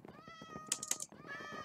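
Cats in the Minecraft video game meow several times in quick succession, clear and fairly close, with overlapping high mews and a brief burst of game clicks in the middle.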